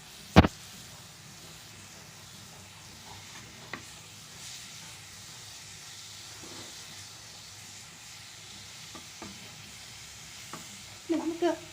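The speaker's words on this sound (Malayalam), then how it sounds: "അപ്പോൾ നമുക്ക് മിക്സ് ചെയ്യാം." Ghee is stirred into a sweet cabbage mixture in a pan, giving a quiet, steady sizzle and hiss with a sharp scrape at the start and a few soft utensil clicks near the end.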